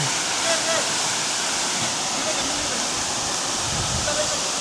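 A steady, roaring rush of falling water from Devkund Waterfalls near Pune, Maharashtra fills the air, constant and loud with no breaks, with spray drifting nearby.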